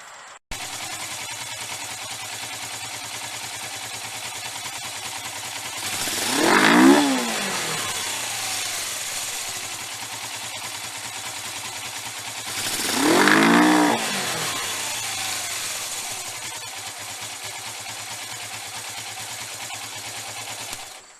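A motorcycle, just repaired after an electrical fire and fitted with pod air filters, idles steadily and then revs hard twice, each rise and fall loud and close, with no talk.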